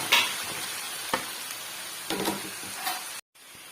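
Spinach fries in oil for dal palak, a faint, continuous sizzle with a few scattered clicks and scrapes of stirring against the pan.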